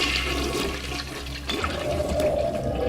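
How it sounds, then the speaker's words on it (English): A toilet flushing in the video game BioShock, a loud continuous rushing and gurgling of water that holds steady for about three seconds with no talk over it. "If you can flush a toilet in a game, it's awesome."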